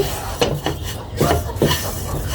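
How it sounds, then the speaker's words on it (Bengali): Vermicelli being fried with milk powder in a pan, a utensil scraping and clinking against the metal in several strokes, close by and fairly loud, with no talking. "গুঁড়া দুধটা দিয়ে আমি ভালোভাবে সিমার সাথে ভেজে নিচ্ছি।"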